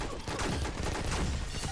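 Rapid overlapping gunfire in the mobile shooter Pixel Gun 3D, a dense, loud volley of shots blurring together for under two seconds.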